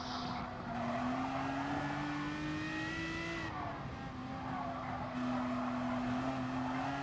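Race car engine in the GT Sport racing game, a steady droning tone that rises and dips as the throttle eases off into a corner and picks up again, loud and continuous with no talk.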